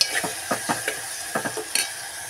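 Chopped green chilies fry in a pan with a light sizzle as a spatula clicks and scrapes against the metal in quick irregular strokes, close by and without any talking.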